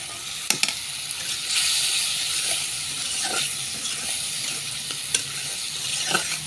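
Tomatoes go into a hot pan and sizzle loudly, a dense continuous hiss that swells slightly and carries on, broken by a few sharp clicks of a spoon against the pan, no voices.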